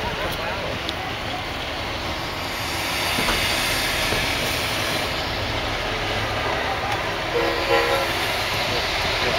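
A Burlington 9911A diesel locomotive pulling the Nebraska Zephyr passenger train rumbles steadily past in a parade, with a sustained engine drone and a faint horn-like tone. Indistinct voices sit in the background.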